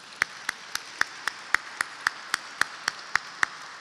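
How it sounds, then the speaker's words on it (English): Audience applause at a State of the Atlanta Beltline event in 2023: steady, evenly spaced sharp claps, roughly four per second, stand out over a faint wash of crowd noise throughout. "Let's give them a great round of applause."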